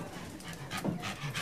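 A trained sniffer dog pants in quick, breathy rhythmic bursts close by, with a faint whimper-like tone mixed in.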